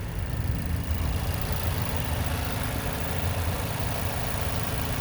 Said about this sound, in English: And that engine is running smooth